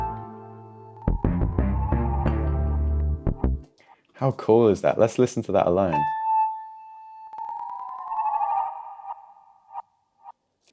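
A beat runs through a phaser and flanger whose depth and feedback are automated up to 100%, ending in a resonant, sweeping metallic whoosh that rings on alone. A person talks briefly in the middle, between the music and the effect tail.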